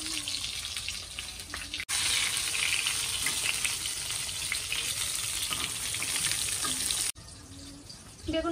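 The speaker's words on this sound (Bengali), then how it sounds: "বেগুন ভাজা বসিয়ে দিয়েছি" Eggplant slices coated in salt and turmeric sizzle steadily in hot oil in a home kitchen, a loud continuous frying hiss with brief breaks where the pan noise drops off.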